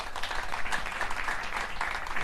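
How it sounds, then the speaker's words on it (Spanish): An audience at a flamenco event in Mijas breaks into steady applause, a dense wash of many hands clapping throughout, fairly close and sustained. "Un gran aplauso para él."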